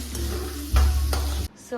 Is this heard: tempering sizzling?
yes